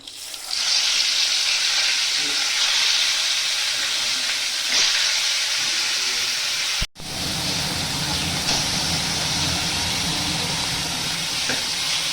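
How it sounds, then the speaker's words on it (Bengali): Koi fish frying in hot mustard oil in a wok, a loud steady hissing sizzle that flares up as the fish goes in, briefly cuts out, then resumes strongly. "তেলটা গরম হয়ে গেছে, আমি এখন কই মাছটা দিয়ে দিব।"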